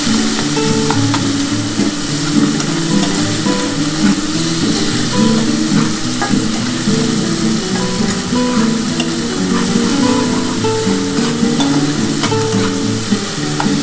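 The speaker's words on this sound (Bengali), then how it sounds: "আমার কিন্তু পেঁয়াজ আর টমেটোটা খুব ভালোভাবে ভাজা হয়ে গেছে" Onion and tomato fry and are stirred in a pan for a Katla fish curry with curry leaves, producing a loud, continuous sizzle with scraping stir sounds throughout.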